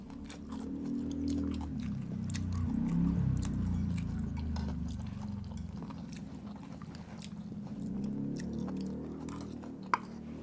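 Close, steady chewing of spicy canned fish salad over rice, with soft wet mouth sounds and a low continuous rhythm, alone without talk.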